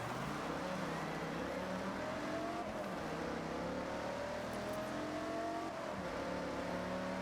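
Several racing cars in Forza Horizon close in with steady engine drone and rising revs, a dense continuous roar that swells and shifts pitch as they arrive and pass.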